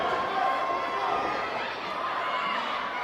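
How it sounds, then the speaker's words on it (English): A wrestling event crowd roars and cheers in a big arena, a broad steady wall of distant voices and applause holding at high level throughout. "listen to this crowd. They are erupting over what they just saw."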